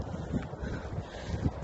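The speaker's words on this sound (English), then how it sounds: "I hope you can hear me with the wind. I just realized it's windy." Wind buffets an outdoor microphone in steady, low rumbling gusts with a couple of louder thumps, no voice heard.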